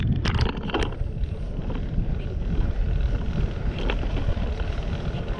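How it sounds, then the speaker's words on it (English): Strong wind blows outdoors during a dust storm in an empty parking lot in Paducah, Kentucky, buffeting the microphone with a heavy low rumble. A few sharp gust hits come early, then a steady roar follows. "Boy, it is windy."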